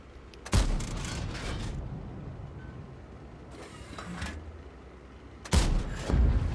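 Heavy tank cannon shots boom in the World of Tanks video game, with a sharp blast early, another near the end, and a low engine rumble between.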